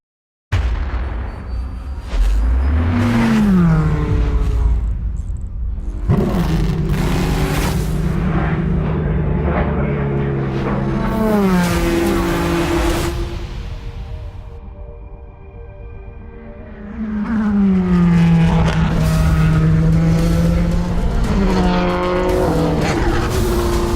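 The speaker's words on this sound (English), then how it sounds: "Corvettes have always had a distinct exhaust note." A Chevrolet Corvette C8.R race car's exhaust roars loud and close, rising and falling in pitch as it revs and shifts, with a momentary lull before it climbs again, plus some tire squeal.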